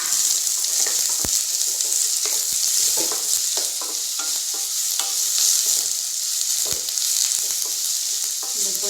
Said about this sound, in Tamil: இதில் டைரெக்டாக வந்து வெங்காயத்தை ஆட் பண்ணிடலாம்.